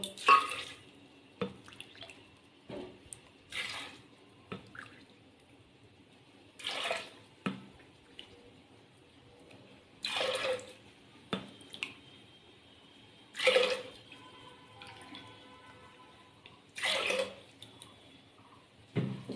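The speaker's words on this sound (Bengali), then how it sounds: "আমি এখানে 6 কাপ পরিমাণে জল দেব" Water goes into a pot for chana dal in about six separate pours, each a short splashing gush with quiet gaps between them.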